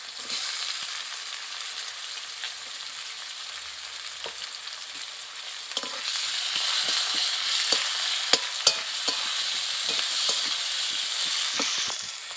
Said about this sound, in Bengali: দিয়ে আমি পেঁয়াজ কুচিগুলো সব দিয়ে দিয়েছি দিয়ে আমি একটু ভালো করে ভাজবো